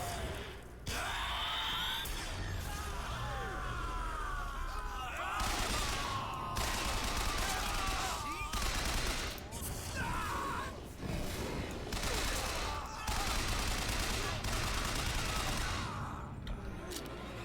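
Shotgun fire in a video game, heard as repeated loud blasts with gunfire-like bursts spread across the stretch, mixed with breathy vocal sounds and background game noise.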